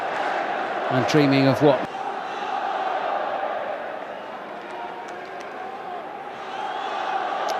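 A football stadium crowd at an Al Nassr versus Al Hazem match roars in a steady, broad wash of cheering and chatter throughout, with a brief louder burst of shouts and a whistle-like tone early on, and a commentator talking over it.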